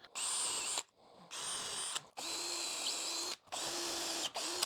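A power drill drives a 1.25-inch deck screw into a wooden miter saw jig in four loud, close bursts of whining motor, separated by short pauses.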